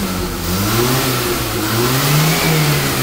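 A 1999 Maruti Zen car running on CNG revs up loudly and close, its engine note rising and falling in smooth sweeps over about three seconds, with no talking.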